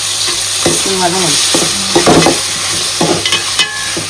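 Chicken with turmeric and salt sizzles and fries steadily in a pan with occasional stirring and scraping clatter, close and fairly loud, with no talking.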